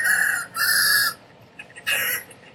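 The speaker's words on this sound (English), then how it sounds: "There's our chicken." A rooster crows twice from an embedded farm-animals video, each a long bright cock-a-doodle-doo call with a brief pause between, loud and close with no speech.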